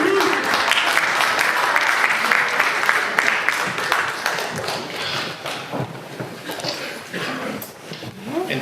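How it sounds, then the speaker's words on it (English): Audience applause at a gathering featuring a band and choir: a dense, steady wash of clapping that fills the first half, then thins and tapers off. "Round of applause, everybody."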